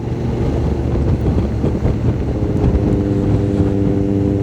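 A two-cylinder motorcycle with a fully open exhaust drones steadily while riding, heard up close and loud. Heavy wind rush blends with the engine, and no one speaks.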